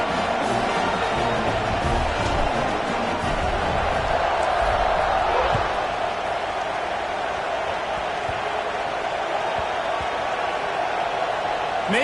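Big football stadium crowd roaring steadily before a kickoff late in a tight fourth quarter, a dense, loud, continuous wash of cheering with a commentator talking over it.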